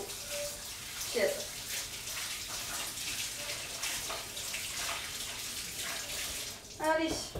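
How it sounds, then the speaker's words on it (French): Water runs and splashes while a kitchen worktop is washed down, a steady wet hiss with brief louder sloshes near the start and end, close and moderately loud. "Allez, je lave mon plan de travail."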